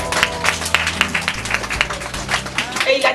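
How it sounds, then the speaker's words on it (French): A small crowd claps in scattered, uneven applause, fairly close, layered over steady background music and murmuring. "On applaudit pour lui."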